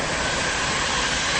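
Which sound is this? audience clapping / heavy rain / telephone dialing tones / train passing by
train passing by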